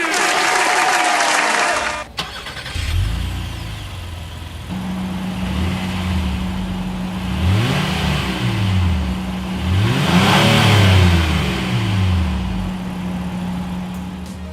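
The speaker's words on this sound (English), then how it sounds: "As always, here is that exhaust clip." Dual exhaust of a Honda Passport with chrome tips, idling then revved several times in rising and falling bursts, loud and close, with a steady drone underneath.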